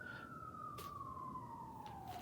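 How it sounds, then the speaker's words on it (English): An emergency siren wails far off outdoors, one long tone that slowly slides downward, faint under steady background noise with no talking. "If you could hear those sirens behind me."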